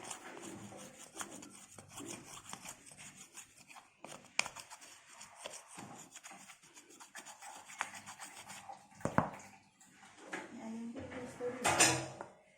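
A metal spoon scrapes and rasps against a pan of frying peyek in uneven strokes, with a few sharper clanks, close and fairly quiet.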